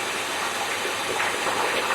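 A cold car engine with a Street Demon carburetor idles steadily with a broad, hissing rumble and no breaks. The float is set too high and the fuel bowl gasket is not sealing.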